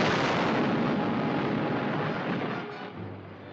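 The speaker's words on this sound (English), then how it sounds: "Wasn't that an explosion?" A distant blast rolls out as a long, dense rumbling boom that fills the whole clip, steady for about three seconds before slowly fading into a low residual roar.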